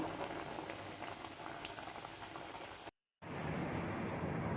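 Moong dal vadas deep-fry in oil in a kadai with a soft, even bubbling hiss that runs continuously, breaks off into brief silence, then resumes just as steadily.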